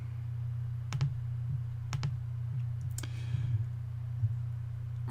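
Computer mouse clicks while moving through a Windows installer: several crisp clicks, some in close pairs, spaced irregularly over a steady low electrical hum.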